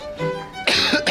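A patient at a GP surgery coughs and clears the throat, a short rough burst of harsh, close, fairly loud coughs after a quieter lead-in, with no speech.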